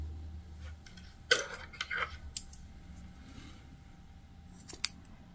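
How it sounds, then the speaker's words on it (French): Scissors snip the fringes of a flat mosaic crochet blanket, a few sharp close clicks, the first ones clustered together and one more a few seconds later, in an otherwise quiet room. "on va commencer par couper un peu les franges"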